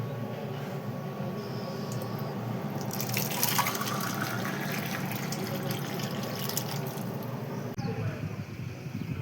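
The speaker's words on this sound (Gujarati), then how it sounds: "હું પાણી પી લઉં ઘડીક" Drinking water is poured as a continuous trickle and splash that swells into a fuller gush partway through, with a muffled background hum throughout.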